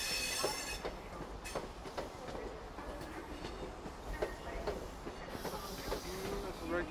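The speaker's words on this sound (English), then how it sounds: "GWR high speed trains coming in." A GWR high speed train pulls through a station, a steady rumble of wheels on rails with squeal and hiss, moderately close and continuous, with faint voices around.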